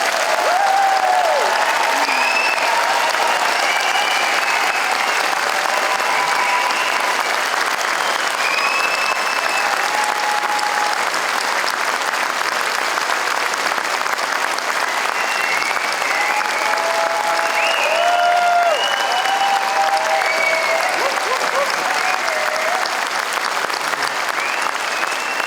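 Sustained, loud applause from a large audience of families and friends for graduates at a university degree ceremony in Harrogate, steady for about 25 seconds, with scattered cheers and whoops rising above the clapping.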